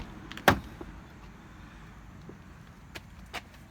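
The driver's door of a 2018 Infiniti QX60 opens with one sharp, close latch click. A couple of faint clicks and light rustles follow in a quiet space; no one talks.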